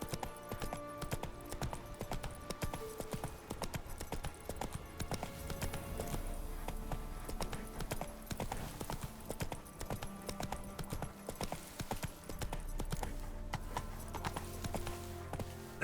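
Roach, a horse in the Witcher 3 video game, galloping in a fast, continuous drumming of hoofbeats that runs throughout, with faint game ambience underneath and no speech.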